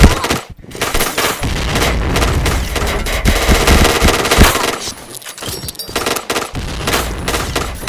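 Rapid machine gun bursts in a shooter video game, loud and dense, with repeated volleys and gunfire filling most of the stretch, briefly pausing before resuming.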